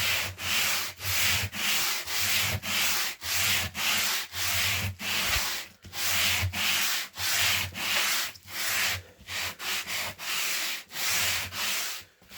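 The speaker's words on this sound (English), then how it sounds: "So this hardest grit will remove bigger parts from the wood." Coarse-grit sandpaper rubbed by hand along the grain of a wooden piece, in steady back-and-forth strokes about twice a second, close and loud, with no talking.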